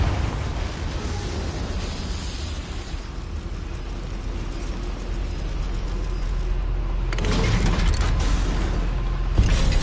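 A goblin mine lift in Hogwarts Legacy on PS4, heard as a dense, continuous mechanical rumble and grinding clatter that swells louder toward the end, with no voices.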